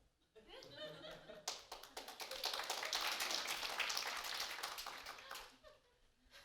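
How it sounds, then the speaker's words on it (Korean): An audience applauds at a church service, with scattered claps that swell into steady, fairly loud clapping for a few seconds and then fade out. A few chuckles are mixed in. "박수가 늦게 나오네요."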